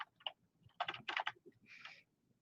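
Someone types on a computer keyboard in a quiet room, with a few close, crisp clicks and short bursts of keystrokes.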